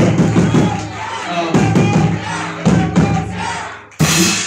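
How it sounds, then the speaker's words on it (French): A church crowd cheers and acclaims in loud, surging bursts of voices, breaking into several waves with a sharp jump in level near the end. "Acclame pour eux."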